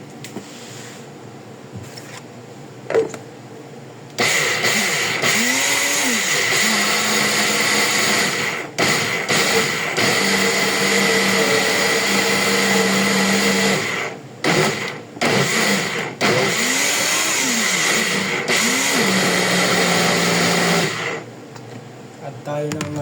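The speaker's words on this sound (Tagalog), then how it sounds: "I-blenderin na natin to." A kitchen blender whirs loudly through pesto sauce in a few long runs, its pitch rising and dipping as it starts and stops, with brief pauses and a person speaking quietly between runs.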